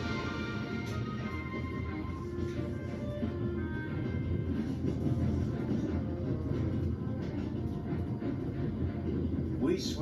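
The Orient Express from the video game The Raven runs along the rails, a steady low rumble of rolling wheels and carriage noise throughout, with faint background tones above it.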